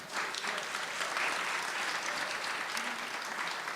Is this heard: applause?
yes